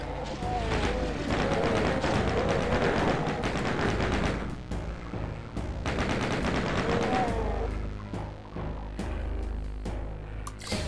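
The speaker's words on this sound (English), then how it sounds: "Let's just let's use a little bit of the chain gun." Doom (1993) chain gun on the Xbox One version fires in dense, sustained rapid bursts, loud and continuous through most of the stretch, mixed with game effects and brief pauses near the end.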